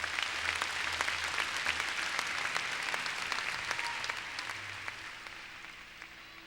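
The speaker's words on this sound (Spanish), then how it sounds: "Denle un fuerte aplauso al Señor en esta tarde." A church congregation claps together in sustained, dense applause that stays loud for about five seconds, then gradually thins and fades.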